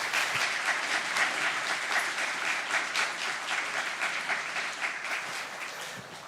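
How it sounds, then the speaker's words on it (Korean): An audience at a church young-adult worship service gives warm applause for a visiting professor after his lecture, dense sustained clapping that stays close and even, then thins slightly near the end. "앞서가신 우리 정 교수님께 뜨거운 박수하고 마치겠습니다"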